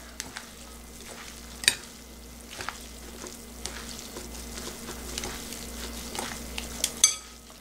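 Japchae glass noodles being stirred and tossed with soy sauce in a pan, giving a steady soft sizzle with scraping and clinking of utensil against the pan throughout.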